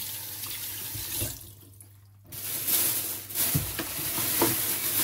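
Squid rinsed by hand under a running kitchen tap, a steady rush of water with splashing and handling noises, briefly interrupted before the flow resumes loudly, with no talking.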